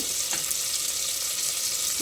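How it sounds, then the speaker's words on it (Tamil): A steady, dense bubbling hiss of water boiling in a pot for cauliflower curry, constant and close with no talking. "தண்ணி வந்து நல்லா கொதிக்கிற ஸ்டேஜ் வந்துருச்சு"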